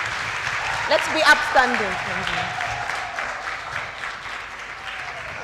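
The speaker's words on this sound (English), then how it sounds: "Please, another round of applause kindly." Sustained applause from a conference audience, clapping steadily throughout while a voice speaks over it near the start.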